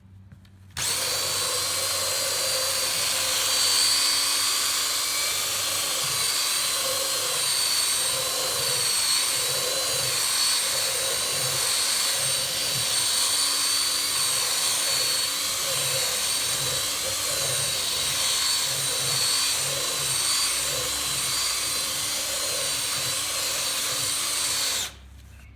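A cordless drill spinning a brush attachment scrubs a boat's carpet, a loud steady motor whine with rhythmic brushing pulses that runs continuously for about 24 seconds, then stops.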